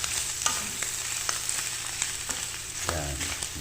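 Beef innards frying in oil with garlic and ginger in a pan, a steady hiss and sizzle with scattered crackles and pops throughout, close and fairly loud, with no voices.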